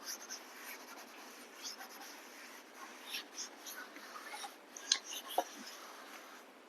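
Writing being rubbed off a classroom board, a faint continuous dry brushing and scraping with uneven swells and a couple of sharper knocks near the end.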